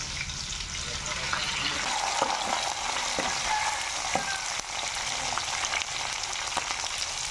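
Chopped onions and curry leaves frying in a pan with dried red chillies, a dense steady sizzle with scattered small pops and ticks of stirring throughout, close and continuous.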